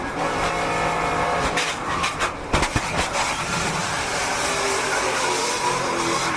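Onboard a NASCAR stock car driven by Lane Riggs at Talladega as it wrecks: loud, steady engine and wind roar, broken by a cluster of sharp impact bangs partway through before the roar continues.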